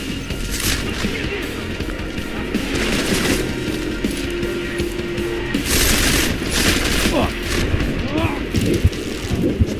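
Rapid bursts of gunfire from the video game Deus Ex: Mankind Divided crackle across a busy, noisy game soundscape, with loud clusters of shots near the middle and end.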